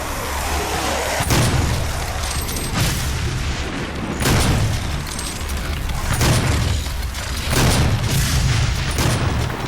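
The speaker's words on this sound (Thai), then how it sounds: "อุ้ยระเบิดเองทั้งนั้น" Explosions in the first-person shooter DOOM, a series of loud booming blasts repeating every second or two in heavy, continuous game action.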